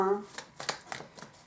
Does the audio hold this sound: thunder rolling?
no